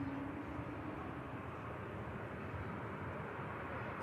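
An Etihad Boeing 777 flies overhead on the Dublin to Abu Dhabi route near Manchester Airport, heard as a continuous, fairly faint low jet rumble that holds steady throughout.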